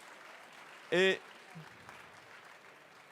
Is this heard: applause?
yes